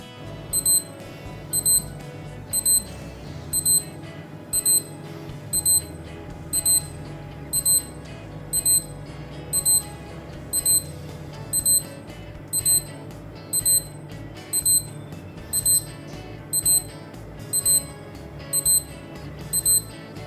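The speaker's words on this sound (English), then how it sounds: "The alarm tone has that retro tech flavor, clear enough to grab your attention in a noisy room" A bright electronic alarm from a Casio calculator watch beeps in short repeated bursts, about one per second, steady and insistent over a faint low background hum.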